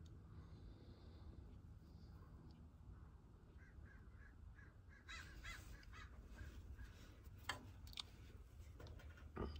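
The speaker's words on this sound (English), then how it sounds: "We got a lot of crows today." Crows caw several times on a nice day, faint and somewhat distant, in short repeated calls over a quiet background that grows busier partway through.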